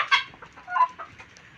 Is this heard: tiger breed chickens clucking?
yes